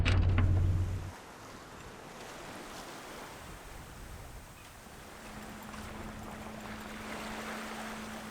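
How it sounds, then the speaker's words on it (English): Sailing boat under way along the coast, steady wash of water and wind noise after a brief louder rumble at the start, with a faint tone rising later. "It turned out to be a lovely sail up the coast, and we were heading east at last."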